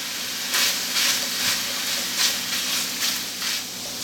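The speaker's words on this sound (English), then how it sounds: "we're going to go ahead and add the pepperoni and the salami. Now we're cooking these" Pepperoni and salami frying in a pan for deep dish pizza, a steady close sizzle and hiss with soft periodic swells of crackle, no voices.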